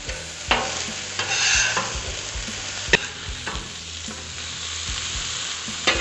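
Ham sizzling and frying in oil in a skillet, a steady close crackle with occasional sharp clicks and scrapes of a utensil stirring the pan, no talking.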